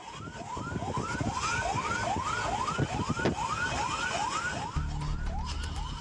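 A fire engine siren yelps in rapid, repeating rising sweeps as it speeds along a highway, loud and continuous over road rumble, with a deeper engine drone joining near the end.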